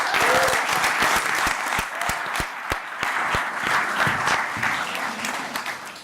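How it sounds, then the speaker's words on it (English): A live audience breaks into a big round of applause, many hands clapping in a dense, sustained wash that stays loud throughout with no voices on top. "let's give Amanda a big round of applause."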